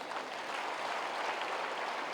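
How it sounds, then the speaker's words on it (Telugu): A yoga class group claps together in a dense, steady wash of applause, moderately distant and sustained for a couple of seconds without talking. "ఒకసారి గట్టిగా చప్పట్లు కొట్టండి."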